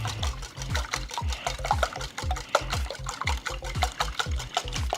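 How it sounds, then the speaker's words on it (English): A whisk beats eggs and whole milk in a large bowl for French toast, making quick, steady rhythmic clicking and sloshing strokes, close and continuous with no talking. "make sure you got yourself a bowl that's big enough so that when you get your, your whisk action going, you don't get no spillage"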